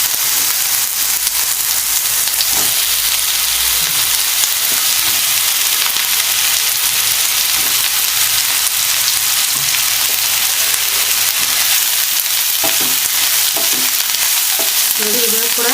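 Capsicum sizzling steadily in hot oil alongside mutton, a continuous broadband fry hiss with occasional stirring clatter, close and fairly loud throughout, no voices.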